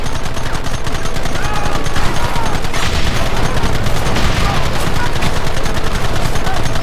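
Sustained gunfire from a Red Dead Redemption shootout, a dense run of rapid shots and bursts filling the whole stretch at close, loud level, with shouted voices briefly mixed in.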